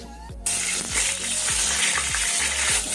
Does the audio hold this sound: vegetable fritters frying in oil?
yes